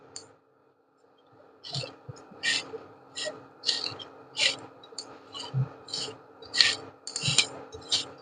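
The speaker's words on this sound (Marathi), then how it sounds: "ह्याच्यामध्ये आपण आता एक चमचा तूप घालू परत हे परतवून घेऊ" Dry fruit mixture being stirred with a spoonful of ghee in a pan over medium flame, giving a run of repeated scraping, rasping strokes roughly every second, fairly close and moderate in level with no talk.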